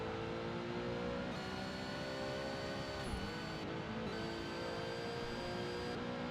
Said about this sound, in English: Car also has the big whine.